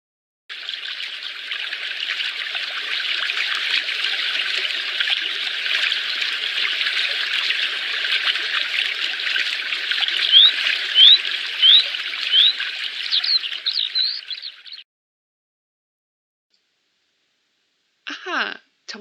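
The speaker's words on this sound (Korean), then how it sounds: "정답은 계곡의 물소리와 산새소리였습니다" Mountain valley stream water trickles and babbles steadily as meltwater runs down, with faint birdsong chirps mixed in, ending in silence and then a brief burst of sound.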